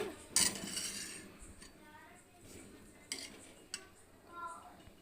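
Milk being stirred in a pot while cooking a quick homemade sweet, with a spoon scraping and clinking against the metal pan in scattered, intermittent strokes, fairly quiet and close, over soft background noise.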